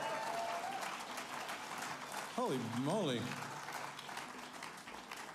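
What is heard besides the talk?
audience applause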